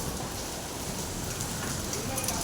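Sudden downpour with hailstones falling outdoors among trees, a dense steady hiss of rain and scattered impacts filling the whole stretch at a constant level, with no clear voices over it.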